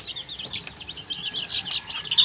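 Large brown-egg laying hens cluck in a backyard flock, a busy stream of overlapping clucks and squawks, close and moderately loud, with faint rustling beneath.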